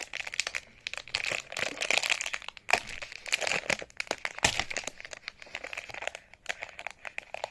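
Hands wrestle with a crinkly plastic package, making continuous close crinkling, crackling and crushing sounds in uneven bursts with no talking.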